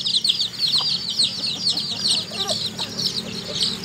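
A flock of chickens in a rural village clucks and chatters continuously at close range, with busy high calls over a low background hum and occasional faint voices.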